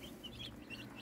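Newly arrived meat-bird chickens cluck and chirp nonstop from close by, high calls layered over a steady flock murmur.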